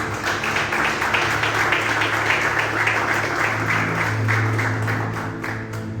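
A church congregation at a Friday-night service applauds together, with dense, steady clapping that carries on for several seconds before easing slightly.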